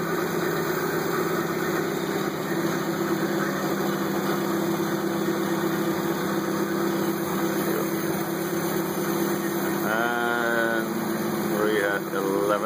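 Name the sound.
1955 Citroën Traction Avant engine idling during double carburetor adjustment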